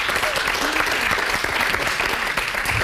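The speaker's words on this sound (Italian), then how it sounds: "un altro applauso al maestro Tadini" Sustained studio audience applause on an Italian television variety show, dense steady clapping filling the whole stretch at an even, fairly loud level.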